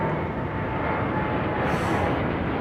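Airbus A380 departing London Heathrow, a continuous deep roar of jet engines, loud and steady with a faint hiss rising near the end, heard from the ground at some distance.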